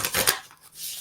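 Tarot cards are shuffled by hand in a short burst of papery riffling and flicking, close and crisp, then fading to a soft rustle.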